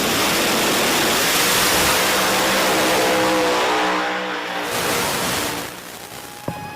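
Drag racing cars make a pass down the strip at Virginia Motorsports Park, a loud sustained engine roar that fades as they pull away, ending with a brief sharp click.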